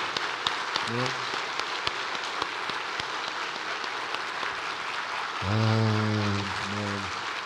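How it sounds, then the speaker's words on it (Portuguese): A large congregation of pioneers in a hall gives a warm, dense round of applause that holds steadily throughout, with a voice sustaining tones over the clapping at the start and again near the end. "Vamos manifestar nossa gratidão a eles com uma calorosa salva de palmas?"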